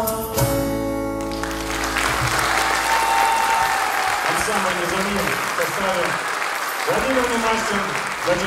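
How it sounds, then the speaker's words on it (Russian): Audience applauds at the close of a song by a small folk-style vocal ensemble, clapping loud and dense for several seconds as the last sung and instrumental notes fade out at the start. "Спасибо большое за ваши аплодисменты."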